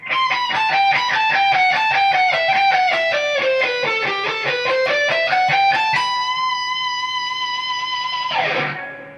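A distorted electric guitar plays a fast run from a solo, with a descending and climbing line of rapid notes that ends on a long sustained note with vibrato before cutting off, loud and close.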